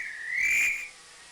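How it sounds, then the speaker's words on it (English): A steam locomotive whistle on a Cornish branch line in Trainz Plus sounds one steady, shrill, bright blast lasting under a second, close and clear over a quiet background. "Whistle."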